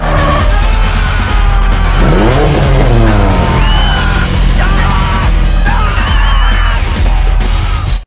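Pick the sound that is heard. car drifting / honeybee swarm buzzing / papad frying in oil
car drifting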